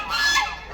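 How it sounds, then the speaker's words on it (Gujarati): A single goose gives a brief, nasal honk nearby, loud and alone. "કેટલા બધા હંસ છે અહીંયા જો"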